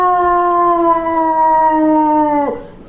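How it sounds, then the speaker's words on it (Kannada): A dog howls for food in one long, loud, steady tone that holds for over two seconds, then drops and breaks off near the end. "ನಮ್ ನಾಯಿ ಊಟ ಕೇಳ್ತಿದೆ."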